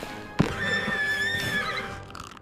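A horse neighs once, loud and close, as a long, wavering whinny. It is used as a sound effect in a narrated fairy tale about a merchant riding up to a palace, and no one speaks over it.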